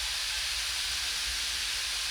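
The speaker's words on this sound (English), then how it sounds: "I'm just going to take this hamburger meat and put it into the pan here." Hamburger meat sizzling in a pan on a hot plate, a steady close hiss with no talk.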